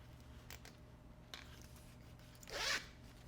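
Zipper slider being fitted onto a backpack zipper while sewing a puffer backpack, giving faint small clicks and then a short, louder rasping zip near the end, with no talking.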